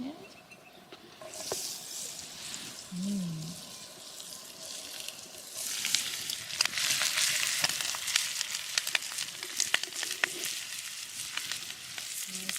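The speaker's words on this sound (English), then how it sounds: "I'm gonna fry them with a little bit of garlic" Finely chopped chips fry with garlic in a pan, a soft sizzle joined by scraping stirs and sharp clicks that grow busier halfway through, fairly quiet, with faint talk in the background early on.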